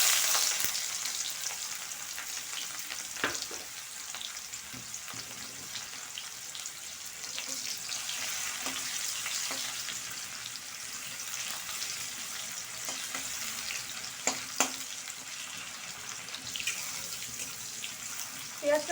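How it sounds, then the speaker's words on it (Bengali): Sliced onions and nigella seeds fry in hot oil with a steady, soft sizzle, broken by occasional stirring clicks and scrapes in a home kitchen. "পেঁয়াজটা খুব বেশি লালচে করে ভাজা হবে না"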